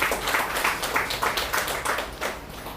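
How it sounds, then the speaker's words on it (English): An audience claps in a loose, pulsing rhythm, individual claps audible within moderately loud applause that swells and fades slightly. "let's give them a big round of applause."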